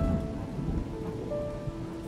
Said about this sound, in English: Night fell, but the storm roared on.